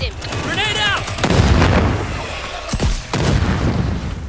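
Rapid bursts of machine gun fire in a video game, loud and close, with heavy booming shots repeating in clusters across the stretch, mixed with game effects and a brief voice near the start.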